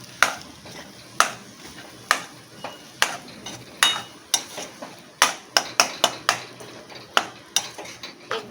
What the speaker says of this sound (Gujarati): એકદમ આ રીતે મિક્સ કરતા જવાનું છે.